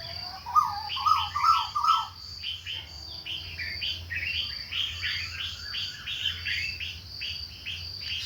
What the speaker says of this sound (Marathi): शांत असा आवाज घ्या चिमण्या सकाळी सकाळचं वातावरण मस्त अनुभव घ्या